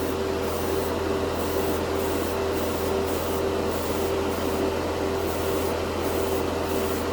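An airbrush sprays Vallejo Shift paint onto a gunpla model in a steady, close hiss, with a faint constant hum behind and a few slight pulses as the spray moves.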